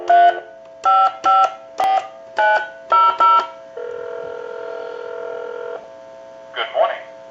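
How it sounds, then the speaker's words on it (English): A telephone dials out through an amplifier on a European phone being repair-converted: a quick run of separate touch-tone beeps in a clear rhythm, then a steady dial tone lasting about two seconds, followed by a brief sound as the line connects. "We'll give you some dial tone, and we'll call that number."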